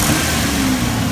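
Engine of a 1993 Mitsubishi Diamante with a misfire, whose throttle position sensor has just been replaced, revs loudly and close-up in a short steady burst with no speech.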